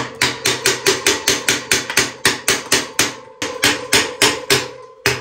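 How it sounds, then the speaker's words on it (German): Repeated hammer blows on the metal axle of a Hase Kettwiesel recumbent trike ring out in a steady, quick rhythm, close and loud, with a short pause before the strikes resume. "Und dann haue ich mit dem Hämmerchen."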